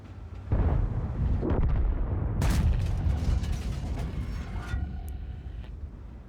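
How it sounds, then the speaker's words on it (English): Artillery fire in the tank game World of Tanks: a booming shot over continuous rumbling engine and battle noise, dense and loud throughout. "Okay, arty just shot."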